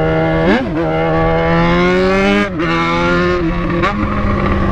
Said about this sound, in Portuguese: Essa é minha moto, tio! Esse barulho aqui é só ela mesmo!